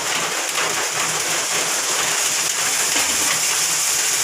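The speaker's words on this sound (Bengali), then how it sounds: "হাঁড়ির মধ্যে গরম জল করে নিয়েছি এখন হালকা হালকা করে জল দিব আর নেড়ে নেব" Hot water poured in small amounts into pulao frying in a pot, giving a steady, loud rushing hiss like rain that runs unbroken throughout, with no voices.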